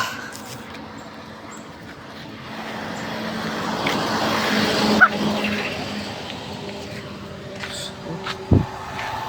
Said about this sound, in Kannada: ಒಂದು ಗಾಡಿ ಪಾಸ್ ಆಯ್ತು ನೋಡಿ, ವೈಟ್ ಕಲರು